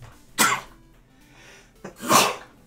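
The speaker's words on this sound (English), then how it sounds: "Sneezing is a thing that happens once in a while." Two sharp sneezes spaced more than a second apart, each a loud burst with a short breathy lead-in, then quiet between them.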